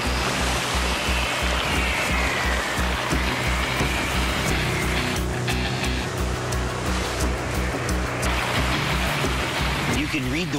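Huge ocean waves, up to around 100 feet, break during big-wave surfing, making a continuous loud roar and rumble of surf with people talking over it.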